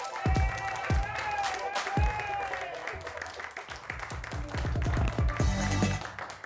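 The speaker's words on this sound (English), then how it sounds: "A big round of applause" An audience at a comedy club, the Laugh Factory in Chicago, claps and cheers as a comedian is welcomed onstage. The applause swells loudest near the end, while an amplified voice talks over it.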